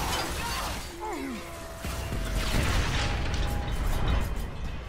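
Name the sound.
gunfire in video game Bulletstorm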